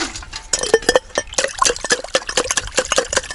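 Water is scooped from an ice fishing hole in spring, with close, choppy splashes, sloshing and light clinks of a container, busy and irregular, with no speech.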